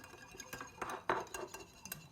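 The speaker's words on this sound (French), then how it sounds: "Maintenant je vais fouetter donc mon mélange." A seasoned mixture being whisked in a bowl for a shrimp and avocado dish, quick irregular taps and clinks of the whisk against the bowl, quiet and close.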